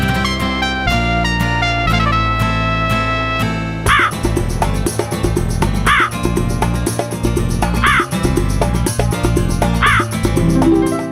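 A crow caws in a children's story about a clever crow drinking from a jug, giving four loud, harsh caws about two seconds apart over steady background music.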